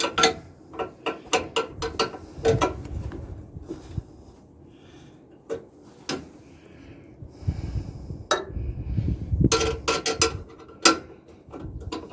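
Spanner working a 14 mm bolt on a boat deck, with irregular metallic clicks and ratcheting knocks coming in clusters, some close and sharp, over low mechanical rumble and faint handling noise.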